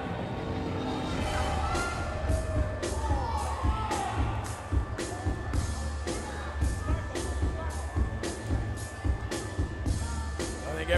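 Wrestling event crowd at a WrestlePro show in Rahway clapping in rhythmic bursts and cheering, a loud continuous roar with sharp, regular claps throughout, children's voices mixed in.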